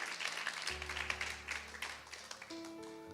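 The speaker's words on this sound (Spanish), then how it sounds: "Si le va a dar un aplauso a Cristo, déselo fuerte" A church congregation claps in praise during a Spanish-English sermon, a scattered, moderate round of applause under sustained organ or keyboard chords.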